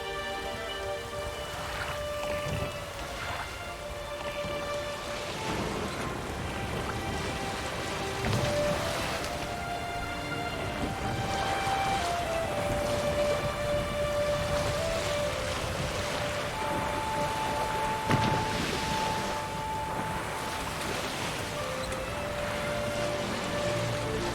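Steady rain falls in a continuous hiss in The Witcher 3, with soft sustained tones drifting over it throughout.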